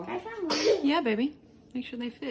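A young child sneezes once, a short sharp burst amid nearby talk from an adult and child at home on Christmas Eve while trying on new shoes.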